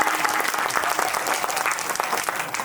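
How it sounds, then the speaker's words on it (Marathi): A crowd at a Marathi kirtan gathering claps loudly and steadily, dense overlapping applause filling the whole stretch without pause. "एकदा स्वतःसाठी जोरदार टाळ्या वाजवा"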